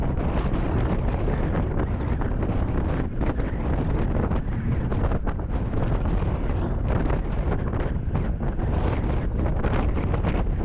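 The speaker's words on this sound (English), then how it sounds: "the wind gets worse here because, as you see, there's no tree cover, and it's coming in hard from the right" Strong wind rushing across open ground with no tree cover during a bike ride, a steady loud roar buffeting the microphone throughout with no pauses and no talk.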